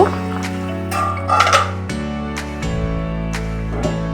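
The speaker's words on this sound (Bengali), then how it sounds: "ঢাকনাটা সরিয়ে দেখব" A metal lid lifted off a cooking pot of simmering Bengali fish kalia curry, giving a few light clinks and taps against the rim over a steady low bubbling hum.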